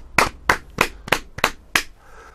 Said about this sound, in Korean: 와, 박수 한번 치겠습니다.